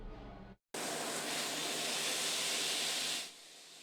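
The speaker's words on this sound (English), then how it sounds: "The familiar sizzling that has characterized this place for over 50 years." Burgers sizzling on a restaurant grill in Springdale, a steady close hissing sizzle that starts abruptly after a brief cut, holds evenly for a few seconds, then drops to a softer hiss.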